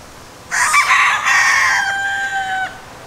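A loud, close rooster crow rings out in one long drawn-out call, standing alone against quiet background.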